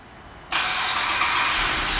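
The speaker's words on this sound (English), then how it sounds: "And the car comes right on." A 2011 GMC Acadia SLT engine, started by remote start, turns over abruptly and then settles into a steady idle, close by, with no talking.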